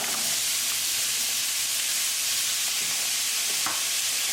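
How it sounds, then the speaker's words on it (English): Onion and carrots cook in a pot for beef stew, giving a steady, loud sizzling hiss with a few soft stirring scrapes and no talk. "Cooking onion and carrots for 5 minutes."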